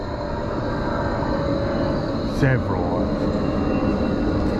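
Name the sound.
large plane taking off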